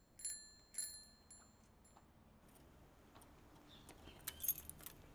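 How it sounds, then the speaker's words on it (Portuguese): A bunch of keys is shaken in two sharp metallic jingles near the start, followed by quieter ambience and a final brighter cluster of clinks toward the end. "o astronauta, agora na juventude, balança um molho de chaves"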